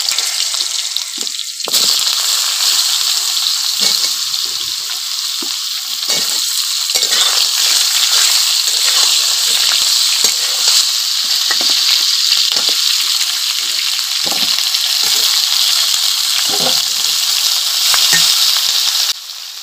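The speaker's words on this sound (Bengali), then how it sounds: "এবারে কুমড়ো আর আলুটা কিন্তু আমি ভেজে নেবো এর মধ্যে" Chunks of pumpkin and potato hit hot oil already fried with spices, five-spice seeds among them, bursting into a loud, continuous sizzle that stays strong and close, with stirring scrapes now and then.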